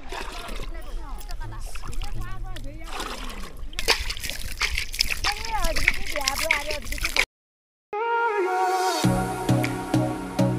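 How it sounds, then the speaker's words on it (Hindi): Water splashes and sloshes steadily as it fills a container for irrigating a hill-village onion field in Uttarakhand. Someone speaks over it, then the sound breaks off briefly and a louder, steadier rushing flow follows. "तो सबसे पहले भरते हैं पानी इसमें"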